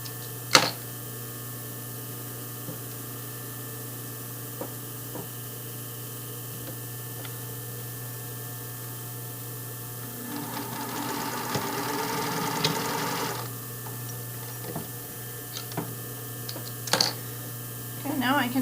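A sewing machine runs for a short burst, stitching along the top edge of a panty, a near whirring run of about three seconds set between quieter stretches with a few clicks and handling noises.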